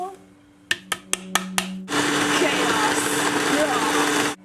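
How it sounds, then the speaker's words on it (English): Blender mixing butter and sugar for cookies: five quick pulse bursts, then a loud steady whirring run of about two and a half seconds that stops abruptly, close by. "we're going to mix the butter and the sugar together in our blender"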